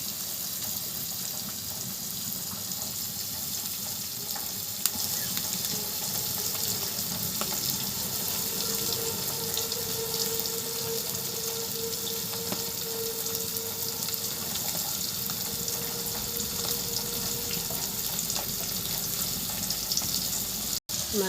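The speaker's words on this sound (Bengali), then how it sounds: "এখন সুন্দরভাবে মাছগুলো ভেজে নেব।" Pieces of rohu fish fry in hot oil, giving a dense, continuous sizzling hiss that stays loud and steady throughout with no talk.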